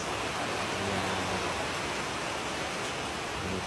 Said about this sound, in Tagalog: malakas yung ulan sa labas